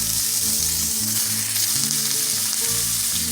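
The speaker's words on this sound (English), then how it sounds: "After 3 minutes, you want to add in your ground beef." Ground beef frying in a pan over medium heat for oven-baked beef and bean tacos, a dense, continuous sizzle over steady stovetop background music.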